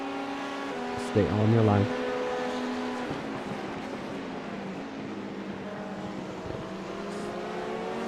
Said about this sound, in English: you got an LMP2 coming up quick